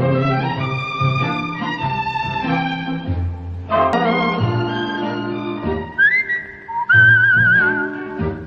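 A man whistles a flowing melody, clear and close, with long sustained notes and a few warbling trills, with no talking.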